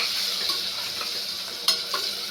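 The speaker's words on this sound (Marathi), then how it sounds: "आता हे मसाले पण टाकूया आणि 2 मिनटं फ्राय करून घेऊया" Spices frying on low gas for dudhi (bottle gourd) bhaji with onion and coriander, a steady soft sizzle with a few sharp stirring scrapes near the end, no voices.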